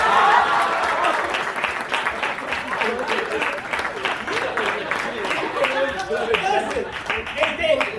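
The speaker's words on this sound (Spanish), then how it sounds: "Aplausos." Audience applause at an improvised comedy sketch with sound effects rings out as a dense, sustained clatter of many hands, fairly loud and steady throughout, with some voices mixed in.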